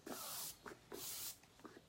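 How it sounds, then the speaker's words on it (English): Behold setting spray is misted onto a face in two long, hissing bursts with short pumping clicks between them, close and very quiet, with no talking. "we're going to use our Behold setting spray"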